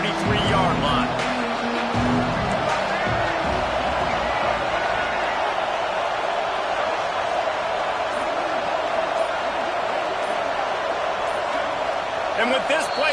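Stadium crowd roaring steadily in a college football video game, a dense continuous wash of cheering at full volume, with a commentator's voice heard over it at the start.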